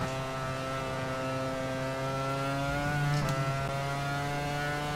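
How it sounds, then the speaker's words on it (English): A Formula 1 car engine from the racing game F1 Challenge 99-02 drones at a steady high pitch, holding revs with a brief shift blip near the middle, loud and alone without talk. "I'm not used to revving out so early on the straight"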